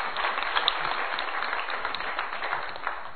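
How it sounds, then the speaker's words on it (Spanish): Applause from a church congregation, steady and moderately loud clapping from many hands throughout, slightly distant and with no speech over it. "Denle un aplauso al Señor."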